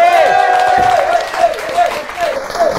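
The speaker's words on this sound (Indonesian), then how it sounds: "Tepuk tangan dulu untuk Debat Kandidat." A studio audience at a candidate-debate comedy show claps throughout, the applause sitting beneath a loud host's voice that talks over it the whole time.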